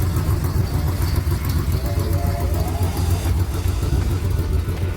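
A car engine rumbles steadily as someone drives into an autumn classic car show, a loud, close, low drone that holds even without sharp revs, under faint background noise.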